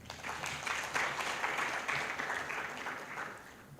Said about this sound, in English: Let's give a better clap.